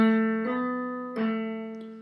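Hammer-on and pull-off trill on a guitar's third string: a ringing plucked note with two soft re-articulations as the pitch shifts, slow and clean, heard alone and close up.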